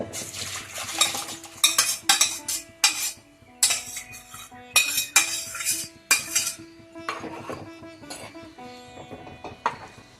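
Repeated metallic clinks and scrapes of a utensil against a clay pot as cooked yam pieces are added, irregular bursts close by, with soft stirring between them and no talking.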